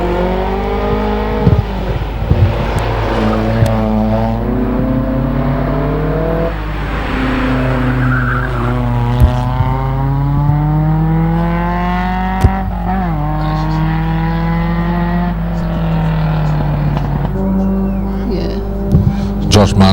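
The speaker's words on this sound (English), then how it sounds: "Into the bus stop, we've got the Datsun going through there right now for you." A Datsun race car climbs through the bus stop corner at the Legend of the Lakes hillclimb, Mount Gambier, its engine revving hard and loud through repeated rising and falling gear pulls, with a commentator talking over it.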